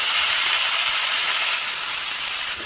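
Chopped tomatoes for a chutney sautéing in a pan, giving a steady, close, bright hiss that runs unbroken and alone for a few seconds with no voices.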